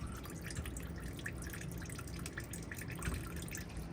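Fuel drips and trickles steadily from a drained truck fuel filter, a continuous soft liquid patter with faint irregular drops, close by and moderately quiet, no talking.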